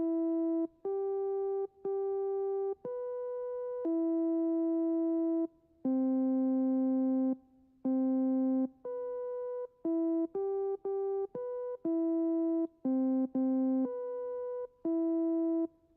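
A synth tone from Arturia Pigments using the Pro PWM wave, playing a sequence of sustained, buzzy notes at shifting pitches in a clean, moderately quiet pattern, with no other sounds.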